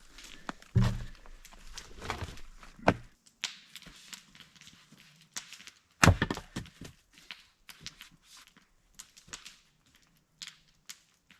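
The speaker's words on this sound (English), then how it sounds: "there's a bunch of nice cedar here that's been wet for years. Let's just split it up and see." Old cedar wood that has sat wet for years being split outdoors, several sharp chopping thunks and cracks spread across the stretch, with quieter rustles and handling noises between strikes.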